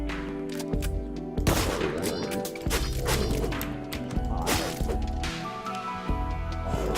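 Gunfire in the video game Deadbolt, a busy run of sharp shots and crashing impacts layered over a droning game soundtrack, moderately quiet.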